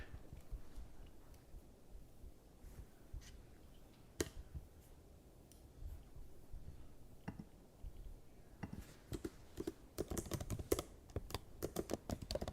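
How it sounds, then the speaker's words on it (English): Computer keyboard typing, steady clicking keystrokes in quick bursts, close and fairly quiet, growing busier and louder toward the end, with no talking. "enjoy that typing sound while we wait"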